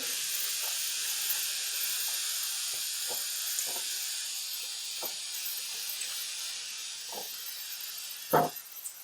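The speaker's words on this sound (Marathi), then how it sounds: "आता कांदा परतण्यासाठी इथे मला दोन ते तीन मिनिटं लागणार आहे" Onions sautéing in a pan for dried bombil (Bombay duck) prepared village style, giving a steady soft hiss throughout with a few faint scrapes and one louder clatter near the end.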